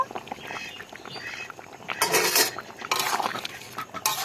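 A pot of thin egg curry being lifted off the stove, with metallic clanks, scrapes and clinks of a spoon and pan in irregular bursts, close and moderately loud.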